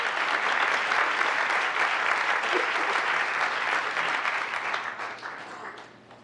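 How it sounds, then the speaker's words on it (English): Large audience at a civic forum applauding steadily for about five seconds, a dense wash of many hands that fades out toward the end. "one more big round of applause"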